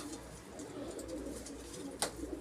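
Pigeons of old pedigree lines in a Turkish breeder's loft coo softly and steadily, with a brief sharper call near the end, against a constant low background hum.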